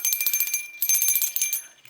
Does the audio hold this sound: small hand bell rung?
yes